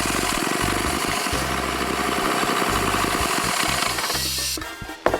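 A Mercury Force 120HP two-stroke outboard runs steadily while being fogged for winter storage, a loud, rough, pulsing idle that falters and cuts out near the end.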